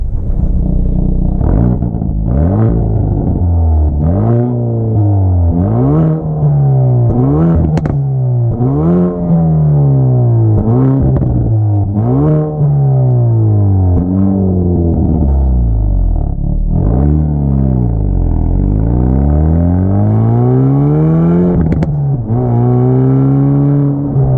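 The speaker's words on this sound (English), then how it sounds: "It sounds pretty good, definitely sounds like a hot hatch." A 2018 Hyundai i30 N hot hatch exhaust revs up and down repeatedly, loud and close, rising and falling in steady waves with a throaty rasp and occasional crackle.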